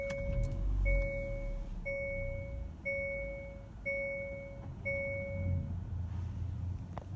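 A 2018 Hyundai Kona gives a steady series of six or so clear electronic chime pulses while its push-button start is used, over a low idle rumble inside the cabin.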